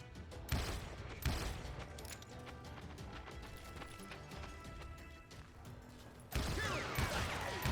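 Rapid gunfire in the Western shooter Call of Juarez Gunslinger, a few heavy shots standing out over a dense run of crackling fire and clatter, with a louder burst near the end.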